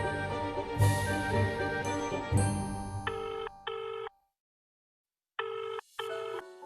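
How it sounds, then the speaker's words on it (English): A telephone rings in repeated electronic trills, two short pulses, then a pause, then two more, following a louder musical sting, clear and close. "And it all begins with a phone call."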